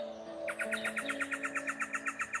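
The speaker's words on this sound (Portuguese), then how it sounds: "cantar como esse passarinho cantou agora" A small bird gives a rapid, even series of high, sharp chirps, about a dozen in quick rhythm, fairly close and clear over faint steady background tones.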